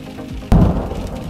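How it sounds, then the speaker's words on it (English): Lightning strikes a wind turbine that is already on fire, giving a single sudden loud boom halfway through, followed by a rumbling decay over steady background noise. "even after the wind turbine catches fire, lightning strikes still hitting the turbine"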